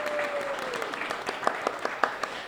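Light applause from a seated audience at a panel event, scattered individual claps growing more distinct toward the end, fairly quiet, with a brief voice trailing off at the start.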